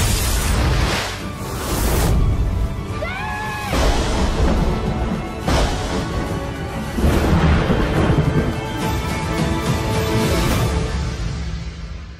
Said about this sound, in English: There'll be a storm soon.